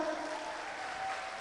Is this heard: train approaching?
no